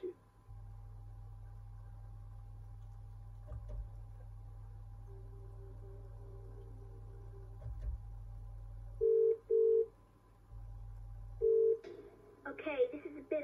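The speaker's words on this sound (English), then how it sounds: "So, you've chosen to phone one of your friends." Telephone tones from the Who Wants To Be A Millionaire family DVD game's phone-a-friend: a long low steady hum, then a few short dialing beeps and a brief burst of sound at the end.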